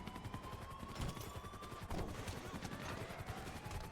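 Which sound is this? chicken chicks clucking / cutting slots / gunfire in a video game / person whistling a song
gunfire in a video game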